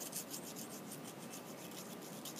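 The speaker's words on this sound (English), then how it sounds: "also buy this little file set, because you're going to need them to sharpen the ship auger bits when you get them" Hand file sharpening a Harbor Freight ship auger bit, quick repeated rasping strokes of metal on metal in a steady rhythm, close and fairly quiet, no talk.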